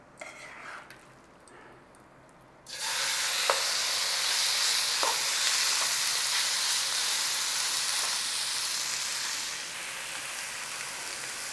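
Steak frying in a hot pan with a little oil: after a few quiet clinks, a loud, dense sizzle flares up and holds steadily, with light utensil taps and a slight drop in intensity near the end.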